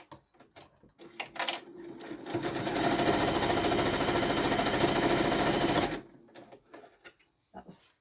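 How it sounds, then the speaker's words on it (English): Sewing machine stitching handles onto a small handbag, a steady close whirring run of about four seconds, bracketed by fabric handling clicks and rustles before and after. "So now I've just got to sew these handles in place. So just a little stitch across the top and across the top."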